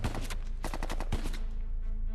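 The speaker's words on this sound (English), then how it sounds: "another round of gunfire alerts Lee to a new problem." Rapid bursts of gunfire from a castle battle, loud cracking shots in quick clusters with brief pauses between volleys, close and sharp with no talking.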